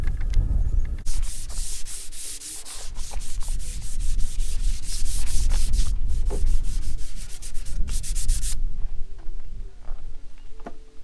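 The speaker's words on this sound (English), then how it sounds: "sand it down with some 400" Sandpaper of 400 grit rubs steadily over polyacrylic clear coat on a wooden fireplace surround, with close, continuous back-and-forth scratching strokes broken by a few brief pauses.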